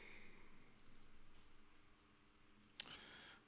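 One crisp mouse click on a web signup button, short and close, after a stretch of faint room noise.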